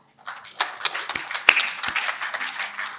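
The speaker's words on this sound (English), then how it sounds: "a clap for our developers too" Scattered clapping from a small audience at a tech talk on HR and payroll software, a handful of hands patting unevenly for a few seconds with a couple of sharper louder claps.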